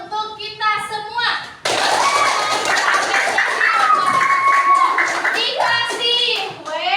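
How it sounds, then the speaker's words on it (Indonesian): A school class claps together in a classroom, a dense burst of hands that starts suddenly and carries on for several seconds, framed by a teacher and children speaking before and after. "tepuk tangan untuk kita semua"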